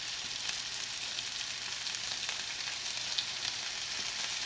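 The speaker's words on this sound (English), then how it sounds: "You'll hear it makes a searing noise" Chicken searing in a hot oiled pan gives off a steady, even sizzle with a faint crackle, close and continuous for a few seconds with no talking.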